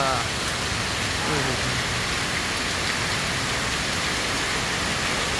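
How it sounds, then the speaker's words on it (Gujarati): Heavy rain in Palanpur pours down in a dense, unbroken hiss from start to finish, with a faint voice briefly audible beneath it. "पालनपुर में કેટલો વરસાદ છે ભૈયા"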